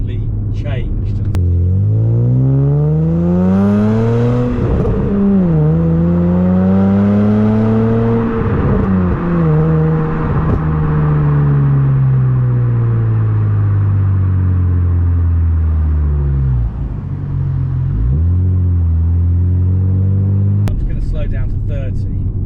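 Car engine and exhaust of a classic Mini after a plug change, pulling hard through the gears with a loud, rising and falling note that runs throughout, heard from inside the car beneath steady talking.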